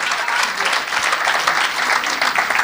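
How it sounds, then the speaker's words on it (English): A crowd at a political party town hall forum in Kingston applauds, dense steady clapping filling the short stretch at close, even loudness. "So a round of applause to Dr. Andre Horton once more."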